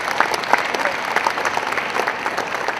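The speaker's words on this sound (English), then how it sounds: "If we can give them a round of applause." A crowd at a university sports legacy celebration gala applauds the event organizers, dense, lively clapping that stays loud and even throughout, with no talk over it.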